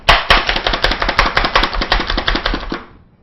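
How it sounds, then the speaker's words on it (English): Broccoli is chopped quickly with a knife, giving a fast run of close, crisp cutting strikes on a board for about three seconds that then fade out, with no talking. "this is the easiest way to chop this up"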